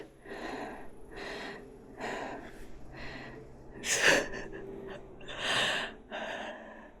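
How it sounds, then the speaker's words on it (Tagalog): Heavy, rhythmic panting breaths from hikers on an autumn forest trail repeat steadily and close by, with a few louder gasping exhales toward the end. "Ba't kami hingal na hingal?"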